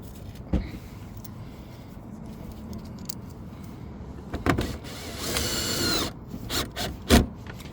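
A power drill driving screws back into a 2014–2022 Jeep Cherokee headlight assembly at a light torque setting, in short bursts of whirring and clicking with quieter handling noises between them.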